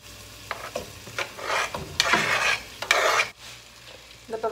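Chicken sizzles in a pan as onion is added, stirred and scraped, with a few bursts of louder frying before the pan settles down.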